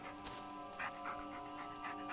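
A dog companion in the horror video game Blair Witch pants in soft, breathy bursts over a steady, faint musical drone, fairly quiet throughout.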